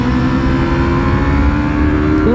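A 1000cc motorcycle engine accelerates on the throttle while cornering on a track, a loud, steady engine roar with rising harmonic tones that holds throughout and swells slightly near the end.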